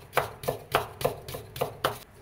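A knife chops a carrot into fine strips on a board in a steady rhythm of about eight crisp, close taps, with no talking.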